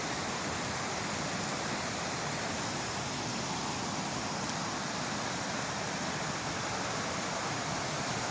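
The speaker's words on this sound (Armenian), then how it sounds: "գետի ափին" A river flowing past the bank makes a continuous broadband rush of water, even and moderately quiet, with no voices.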